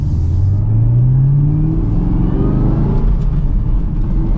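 A 2023 Chevrolet Camaro ZL1 with a supercharged V8 accelerates hard from first gear. Its deep, loud engine roar rises in pitch with the supercharger whine, then drops briefly at a shift and climbs again.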